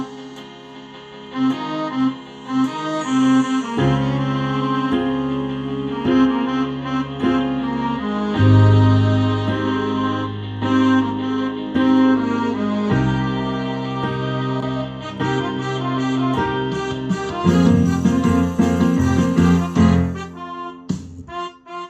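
A solo piano plays a full section of a song, with a sustained chordal accompaniment under a melodic line, moderately loud and close, ending on a fading chord.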